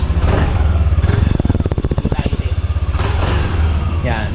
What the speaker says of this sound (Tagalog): Ito guys yung andaran ng ating ano, Aerox.